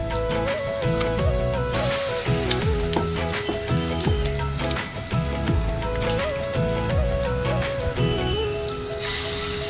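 Potato leaf fritters sizzle in hot oil in a wok, a steady crackling fry with a spattering hiss, while music with a repeating tune plays over it throughout.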